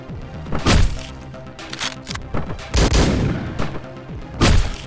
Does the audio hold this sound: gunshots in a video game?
yes